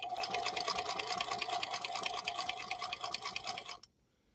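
A Singer Featherweight 221 sewing machine runs a steady, fast stitching whir through single-layer Naugahyde for nearly four seconds, close up and alone, then stops abruptly.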